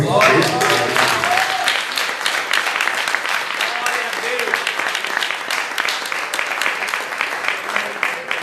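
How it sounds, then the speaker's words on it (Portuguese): A church congregation applauds during a worship service, with dense, sustained clapping from many hands filling the space and voices mixed into the crowd noise. "Você pode aplaudir o Senhor?"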